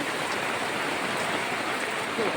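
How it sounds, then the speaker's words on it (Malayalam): Heavy rain pours down steadily on a leaking house, a dense, even hiss of water with no break. "പക്ഷെ നല്ല മഴയാണ്."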